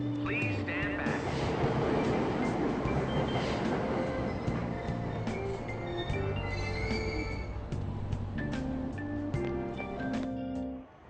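A train in the video game Persona 5 Royal, a steady rumbling hum with sustained tonal drones and scattered clicks, moderately loud throughout and fading out at the end, with speech present.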